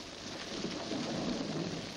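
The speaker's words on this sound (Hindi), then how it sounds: "बारिश हो रही है" Steady, even rain falls outdoors during a storm, a dense continuous wash of drops with no speech over it.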